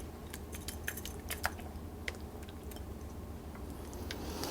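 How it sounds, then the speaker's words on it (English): Smoked salmon quiche filling poured from a bowl into a pie shell, giving soft wet squishing and faint scraping clicks over a low steady kitchen hum, with no talking. "my last step here is to pour my filling into my pie shell"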